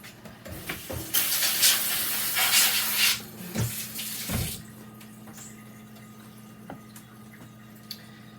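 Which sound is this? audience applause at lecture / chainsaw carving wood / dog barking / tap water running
tap water running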